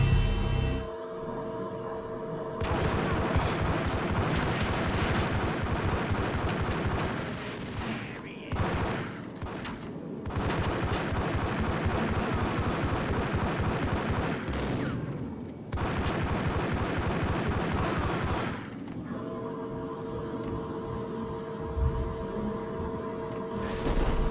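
Gunfire in the Max Payne video game, long loud bursts of rapid shots separated by brief silent gaps, over a steady low game soundscape.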